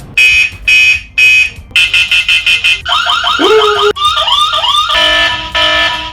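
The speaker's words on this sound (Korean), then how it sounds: "알람 음악은 총 6가지 있습니다." A loud electronic alarm from an ENFITNIX XLITE BT bicycle tail-light anti-theft alarm cycles through several patterns: bursts of high beeping, rapid pulses, then warbling, siren-like sweeps, with no talking.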